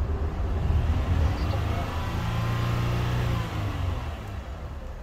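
A car engine with a misfiring cylinder runs roughly at low speed, a low uneven throb that is steady and fairly quiet throughout.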